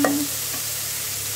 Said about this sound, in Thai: หมูสามชั้นเนาะนี่น้ำมันหมูออกแล้วเห็นไหม